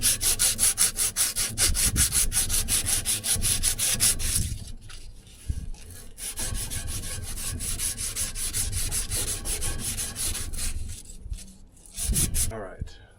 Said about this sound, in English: I take a little bit of this metal sandpaper called Emery cloth